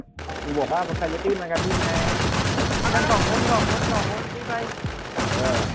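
Rapid gunfire from a gun in the video game DONGDIB Z, dense bursts of shots running almost without pause, loud and close, with excited voices talking over them.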